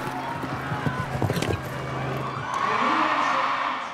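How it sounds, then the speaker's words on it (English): Crowd at a show jumping event rises into a sustained roar of cheering as a horse and rider finish a fast jump-off round, with an announcer's voice over it and scattered hoof-like thuds before the swell. "Listen to the crowd."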